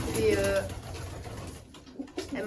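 Racing pigeons coo softly in a loft while someone talks in French over them.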